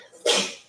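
A single short sneeze from a person indoors during an office meeting, sharp burst after a brief breath, fairly close and alone.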